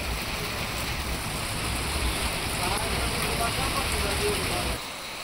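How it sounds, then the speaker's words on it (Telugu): Heavy rain pours down in a dense, steady hiss that fills the clip, then drops off slightly near the end. "భారీ వర్షం పడింది"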